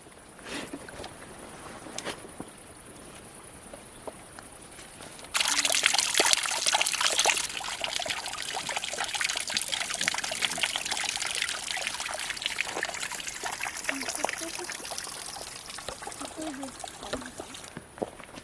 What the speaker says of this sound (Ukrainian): Воно тече через стежку широким потоком.